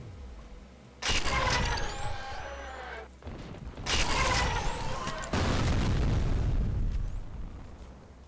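Rocket explosions in a video game: two loud booming blasts, one just after the first second and another near four seconds, each rolling on with a long roar and crackling debris, with further rumbling that continues to the end.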